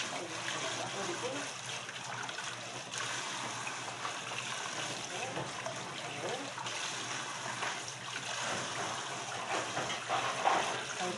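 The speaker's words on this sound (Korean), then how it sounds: "깨끗이 흐르는 물에 묻혀주세요." Tap water runs in a steady, close rush over green onions being rinsed, an unbroken stream of splashing with faint voice in the background.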